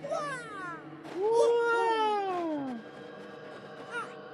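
A pet cat meows several times close up, drawn-out rising and falling calls with a long one in the middle and a short chirp near the end, over faint background sound.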